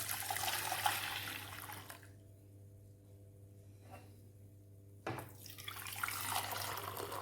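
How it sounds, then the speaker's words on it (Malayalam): Hot Indian milk tea poured back and forth between two vessels to froth it: a rushing liquid stream for about two seconds, a quiet pause, then a second pour, close by with no talking. "നമുക്ക് ഈ ചായ ചൂടോടെ ഒന്ന് അങ്ങോട്ടും ഇങ്ങോട്ടും ഒക്കെ ഒന്ന് ഒഴിച്ച് എടുക്കാം."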